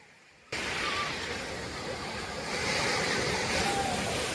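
Arabian Sea waves washing around a floating bridge, a steady broadband rush of surf with wind buffeting the microphone, starting abruptly and swelling louder partway through, heard up close and continuous.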